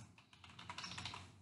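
Quick, uneven keystrokes on a computer keyboard as a name is typed, soft clicks at close range with no voices.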